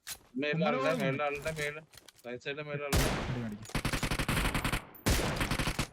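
UMP submachine gun fired at long range in a shooter video game, dense rapid bursts of sharp shots in two runs after a stretch of excited talk, loud and close in the mix.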